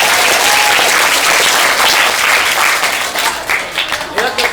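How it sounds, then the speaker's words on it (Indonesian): A school audience at a motivation training session breaks into loud, dense applause that stays steady for a few seconds, then thins into scattered claps. "Karena dia merindukan tepuk tangan hari ini."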